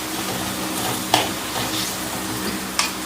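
Food stirred in a pan over full flame gives a dense, loud, continuous sizzle, with a couple of sharp clinks from the spoon against the pan.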